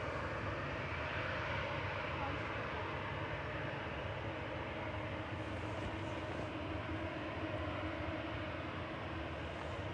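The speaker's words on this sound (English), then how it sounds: "Ryanair departing to Cork with flight 1863 on 23 left" A Ryanair jet departs runway 23 left at Manchester Airport, its engines making a constant, broad, roaring rumble from a moderate distance that stays steady for the whole stretch.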